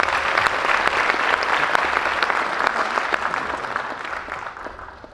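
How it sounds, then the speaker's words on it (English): A crowd at a cultural showcase applauds a speaker being welcomed to the stage, dense sustained clapping that holds steady and then tapers off toward the end. "Please put your hands together for Brett."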